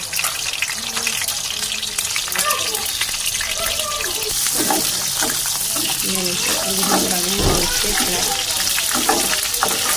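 Shami tikki light frying in oil, a steady hiss and sizzle running throughout while someone talks over it.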